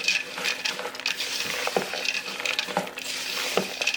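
Dried fruit is stirred by hand into a Christmas pudding mixture, giving soft, close, irregular scraping and patting strokes with faint bowl clinks, quiet and without talk.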